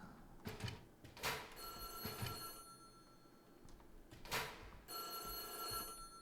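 A telephone rings in the horror video game White Day: A Labyrinth Named School, a bright bell trill repeating in several bursts, fairly faint against a quiet background, with no talking.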